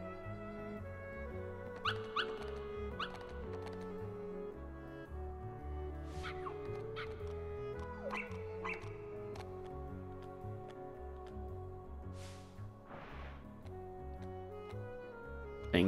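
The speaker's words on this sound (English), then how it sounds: "Puppies." Puppies in Kingdom Hearts Final Mix let out scattered short yips and barks over steady in-game background music.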